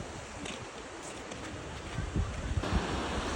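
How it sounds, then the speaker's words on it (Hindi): The Neelam River flows slowly with low water at a scenic riverside spot, a steady broadband rushing and washing sound with some wind noise on the microphone and a few swells near the end. "फ़िलहाल दरिया नीलम बिल्कुल स्लो और बहुत कम रफ्तार में और बड़े कम पानी में चल रहा है"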